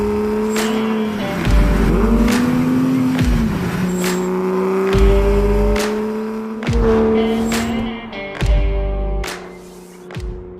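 A Porsche 997 CSR, built on a first-generation 997 911, drives close by with a loud, steady engine tone that rises and falls through gear changes and throttle lifts, with brief bursts of roar.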